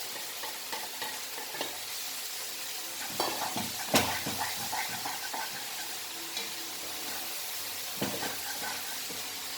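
Boiled noodles being stir-fried with fried masala in a pan, a steady sizzle broken by scraping stirs and a few sharp clanks of the utensil against the metal.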